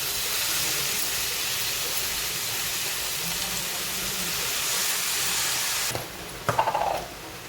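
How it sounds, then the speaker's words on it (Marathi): Chopped ivy gourd (tondli) hits a hot pan of oil and spices, producing a continuous broad hiss and sizzle, followed by a couple of brief clinks near the end. "आता आपण ही चिरून घेतलेली भाजी घालत आहोत"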